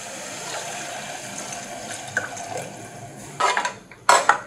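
Water is poured into a cooking pot of mushroom biryani with a soft running trickle, followed by a couple of sharp metallic clinks from the pot near the end.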